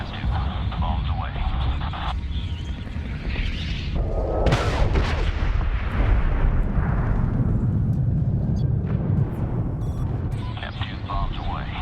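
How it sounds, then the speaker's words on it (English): Bombs explode in the 2010 video game Medal of Honor during an air strike, heavy booming blasts rolling and rumbling continuously for several seconds, loud and close, with radio chatter and game voices mixed in. "F2, bombs away. Keep pinging that target until impact."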